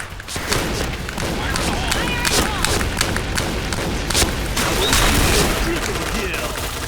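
Rapid bursts of gunfire and thuds from an online shooter game, sharp repeated shots scattered throughout amid chaotic in-game noise, loud and close, with voices talking over them.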